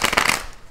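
Tarot cards being shuffled, a brief close riffle of papery flutters that fades out within a second, with no voices.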